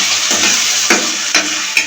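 Onion, garlic and ginger paste sizzle steadily in a hot pan as a spatula stirs them, with a few soft scraping strokes over the continuous frying hiss.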